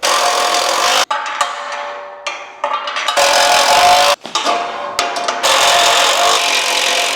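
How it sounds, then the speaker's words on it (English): A tool tightens the 18mm bolts and 19mm nuts on an Ultra-Tow 4x8 folding trailer, making loud, close, sustained mechanical whirring and rattling broken by short gaps, with no voices. "slide your bolts through and tighten them down"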